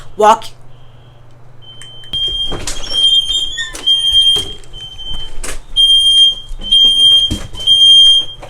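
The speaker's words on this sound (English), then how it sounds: "I just had a random fire alarm go off in my house" A household smoke alarm shrills in repeated high beeping bursts, loud and close, with rustling, footsteps and movement around it; no one speaks.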